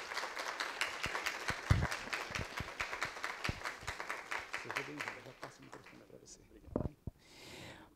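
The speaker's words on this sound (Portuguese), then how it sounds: "Uma salva de palmas." An audience at a workplace health talk applauds to welcome a dentist lecturer on stage, with steady clapping spread across the room and an announcer's voice over it, and the applause tapers off near the end.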